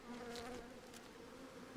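Honey bees buzz steadily while being removed from a chimney, a dense, continuous hum of many insects close by with no talk over it.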